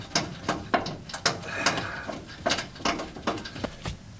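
A hand ratchet loosens a bolt on the center bearing of a Toyota Tacoma drive shaft, giving close, irregular bursts of sharp clicking pawl strokes with short pauses between pulls.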